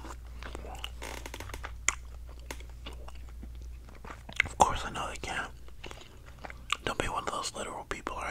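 Bubble gum chewed close to the microphone, with soft wet smacks and crunchy clicks coming and going over several seconds, mixed with faint whispering.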